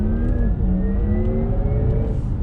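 A 2020 Porsche Taycan Turbo S electric car accelerates hard on throttle, its loud, rising electric motor whine climbing steadily in pitch over a constant road and tire roar.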